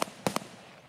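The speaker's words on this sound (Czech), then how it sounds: "Oh, střílí po mně něco, asi od tří budek, nevím." Three sharp gunshots from Escape from Tarkov, the first alone and then two quick ones close together, fairly faint and distant-sounding, fired at the player from around a cluster of sheds.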